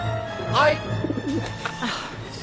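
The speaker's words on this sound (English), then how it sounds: "How am I supposed to get rid of that pigeon?" Pigeon cooing in the game Syberia: The World Before, soft throaty coos heard beneath a voice speaking over quiet background ambience.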